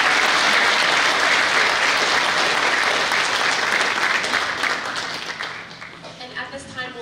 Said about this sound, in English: Let's give one more round of applause for our 7th grade orchestra.